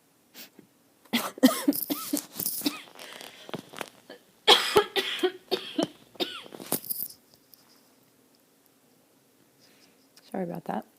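A person coughs repeatedly in bursts, a fit of harsh close coughs and throat sounds, then a short final cough after a quiet pause.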